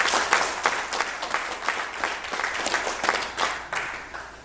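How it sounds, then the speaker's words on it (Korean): Audience applause at a business forum lecture, a steady wash of many hands clapping at moderate volume with slight swells, no talk over it. "여러분 큰 박수 부탁드립니다"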